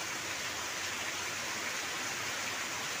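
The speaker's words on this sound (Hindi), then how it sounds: "इतनी ज़बरदस्त बारिश हो रही है" Heavy first monsoon downpour in Mandla, a dense, unbroken hiss of pouring rain, steady and even throughout, with no voices.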